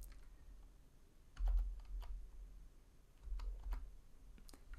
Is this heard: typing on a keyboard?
yes